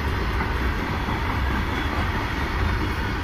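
An Indian Railways freight train hauled by an ALCO WDG4 Shakti diesel locomotive rolls past, a loud, steady, close rumble of wagons and engine with no pause over the stretch.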